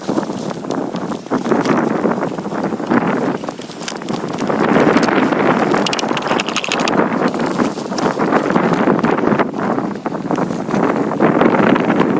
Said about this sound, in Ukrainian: Здається, в мене тут ураган